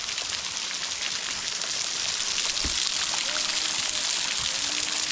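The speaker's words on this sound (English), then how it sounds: "You can probably get the water coming down." Steady, loud rushing of a waterfall pouring down near caves, a dense unbroken hiss of falling water close by that fills the whole stretch with no pauses.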